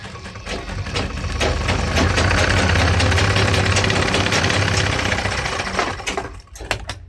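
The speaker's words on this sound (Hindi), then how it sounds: "इसके बाद हम इस पर सिलाई करेंगे पॉकेट के अस्तर पे" An electric sewing machine stitches the pocket lining of a pair of trousers, its motor whirring up into a loud, steady run for several seconds before slowing, with a few clicks and handling noises near the end.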